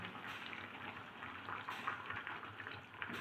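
Milk poured into simmering carrot halwa in a home kitchen pot, a steady close bubbling and sizzling hiss with soft liquid splashing throughout, no voices.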